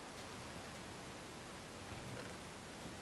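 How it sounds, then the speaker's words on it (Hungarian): Steady rain falls in Minecraft, a soft, even hiss of rainfall with no breaks, quiet and continuous throughout with no voices. "álljon már el az eső"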